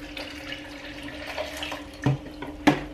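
Tap water runs steadily into a water bottle at a sink, a soft continuous stream with a couple of louder splashes and clunks near the end.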